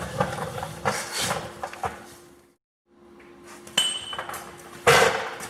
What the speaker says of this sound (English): use a punch and chisel and then just sort of cave it in on itself, and it'll pop right out